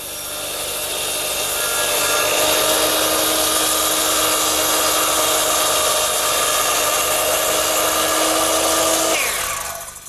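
A power saw cuts steadily through wood for a cross cut, a loud continuous whining buzz with sustained tonal ringing that holds evenly for about nine seconds, then winds down as the blade exits.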